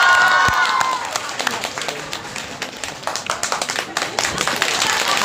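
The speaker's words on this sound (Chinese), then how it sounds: "感谢您的掌声鼓励。" Audience applause at a live crosstalk comedy show in Sanlitun, dense scattered clapping filling the whole stretch at a steady level, with a voice faintly audible beneath it.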